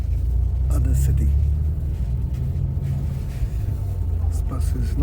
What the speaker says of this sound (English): Sitting on the bus upstairs, front row